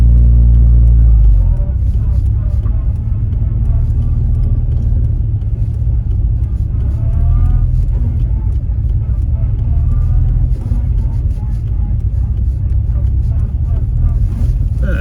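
A blue MK2 Golf GTI 16v idles and creeps backwards, a loud, steady, low engine rumble close by that drops slightly after the first second and holds, with faint talk over it.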